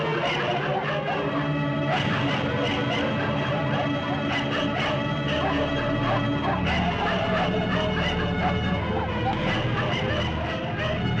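Several dogs bark and yip continuously in a noisy crowd scene from a dubbed Tamil film, with sharp repeated barks over dense babble and background hubbub throughout.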